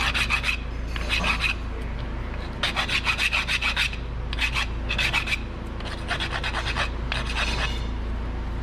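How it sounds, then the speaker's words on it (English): Brake pads from a 2016 Nissan Pathfinder being ground on their sides and top, repeated rhythmic rasping strokes in short bursts with pauses between, close and loud over a low hum. "you grind the side, the top, and the side for both"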